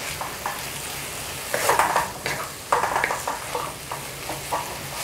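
A utensil stirs dried radish strips in a pan as they cook in their liquid, a steady sizzle under scraping and clinking strokes that grow busier halfway through.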